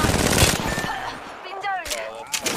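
Video game gunfire, a loud rapid burst of shots up front that thins into scattered electronic tones and softer shots, mixed under a speaking voice.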